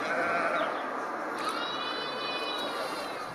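Sheep bleat in the open, several wavering cries overlapping at a moderate distance over a steady outdoor hiss, with a voice faintly in the background.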